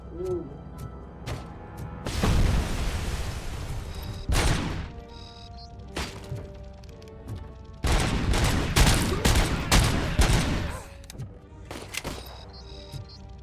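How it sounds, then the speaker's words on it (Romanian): Bombs exploding in a RoboCop video game, bursts of loud crashing blasts in clusters separated by quieter gaps, with sharp gunfire-like cracks between them. "A dat cu bomba. Altă bombă."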